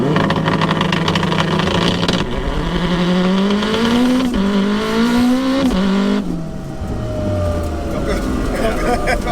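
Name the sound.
turbo AWD sequential Honda DC5 Type R launching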